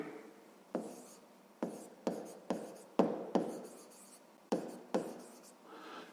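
A pen scratches across paper in short bursts with crisp taps, each stroke fading quickly, as a square's perimeter formula is written out close up in a quiet room.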